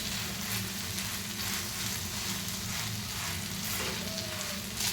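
Curry leaves sizzle in hot oil while a tawa egg masala is being made, giving a steady, continuous frying hiss that stays even throughout, close and moderately loud, with no voices over it.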